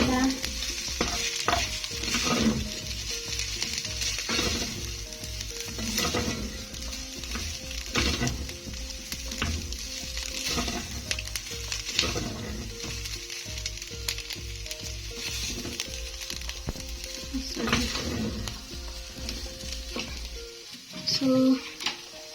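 Vegetable rice sizzles and fries in a pan while a utensil stirs it in steady scraping strokes, loud and close throughout, with a brief clink near the end.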